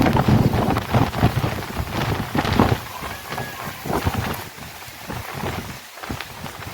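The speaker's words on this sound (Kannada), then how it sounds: "ಗಾಳಿ ಮಳೆ ಸಿಕ್ಕಾಪಟ್ಟಿ ಬರ್ತಾ ಇತ್ತು" Rain pours steadily with gusty wind rushing through it, a dense, fluctuating roar without any talking.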